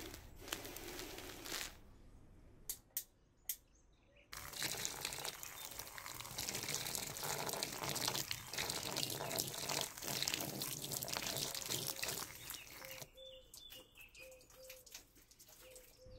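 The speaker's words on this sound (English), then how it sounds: "we set the hosepipe loose on this Bluetooth speaker" A garden hosepipe sprays water onto a Creative MUVO GO Bluetooth speaker, a steady broadband hiss and splatter running loud and continuous from about four seconds on, after a quieter stretch with a few sharp knocks.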